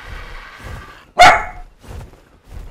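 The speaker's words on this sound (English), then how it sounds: "No barking either." A single sharp, loud dog bark rings out close by in the survival game ARK, set against quiet murmuring and soft background noise.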